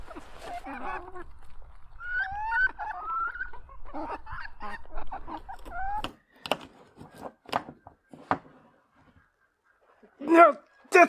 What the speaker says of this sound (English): Shut up, chickens.